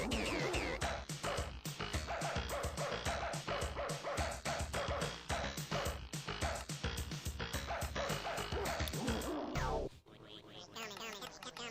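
Dogs bark and yip steadily in a modded Minecraft game, loud and dense over busy game sounds for about ten seconds before cutting off to quieter background noise.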